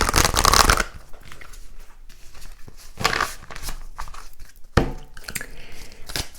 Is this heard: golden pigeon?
no